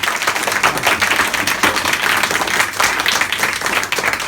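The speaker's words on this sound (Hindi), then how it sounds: "ताली बजाइए इसके लिए जोरदार" Enthusiastic audience applause at a National Science Day event held at a free education centre in Azamgarh, dense and continuous clapping from a crowd of children throughout, with no voices above it.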